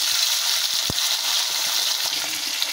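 Chicken pieces for biryani fry lightly in hot oil, giving a steady, even sizzle throughout with one brief clink near the start and no talking.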